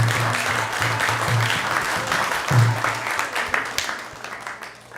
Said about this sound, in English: let's give him a big round of applause and express our gratitude and thank you